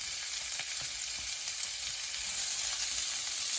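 Onions and jalapenos sizzle steadily in a skillet, a close, even hiss of frying with faint crackles and no talking.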